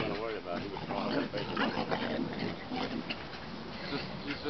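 Beagle puppies play with quick yips, whimpers and small barks scattered through busy, fairly loud activity, with people talking over them throughout.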